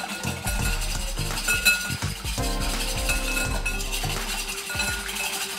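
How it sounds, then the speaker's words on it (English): Whisk clinking steadily against a bowl while mixing a batter thickened with tapioca starch to break up lumps, with rapid metallic taps and scraping and no talk. "I'm gonna give this a whisk and get all the chunks out."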